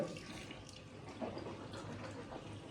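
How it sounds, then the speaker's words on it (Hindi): Tap water running steadily into a sink while someone rinses their mouth, a close, continuous splashing gurgle with faint household sounds in the background. "भैया कुल्ला कर रहा"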